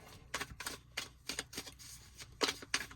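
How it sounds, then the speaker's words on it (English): Quiet, quick riffles of tarot cards being shuffled in short bursts, several in a row, heard up close. "We'll do 3 more shuffles here."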